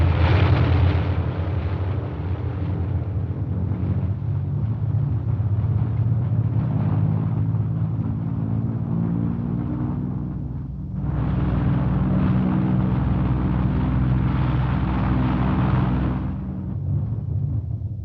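Military bomber aircraft taxiing out and taking off in a 1951 air war documentary, a continuous heavy engine roar with a deep rumble that dips briefly and then surges back.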